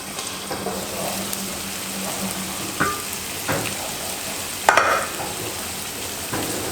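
Cauliflower leaves sautéing in plenty of olive oil with a garlic clove make a gentle, steady sizzle, broken by a few scrapes and clinks of a utensil stirring the pan.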